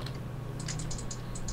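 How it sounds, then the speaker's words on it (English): Quick mouse clicks during a Minecraft session come in a loose run of light, sharp taps, close and clear over a steady low hum. "Mouse clicks for life."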